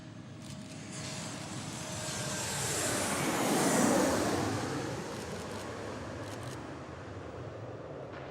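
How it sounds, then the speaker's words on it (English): A JetBlue airliner lands at Reagan National Airport, its jet roar rising from a distance, peaking near the middle, then fading as it passes and rolls out. "Nice landing by JetBlue"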